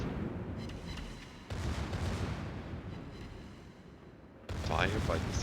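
Warship secondary guns firing in World of Warships, a few sharp booming salvos that start abruptly and decay into rumbling, with a voice talking over the last one.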